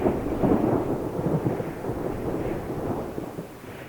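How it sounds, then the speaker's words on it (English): A powerful thunderstorm in the early hours of a late-December morning, likely on Kangaroo Island: deep, rolling thunder rumbles continuously with a steady wash of rain, loud and close, with no voices. "we were woken up to the most amazing thunderstorm"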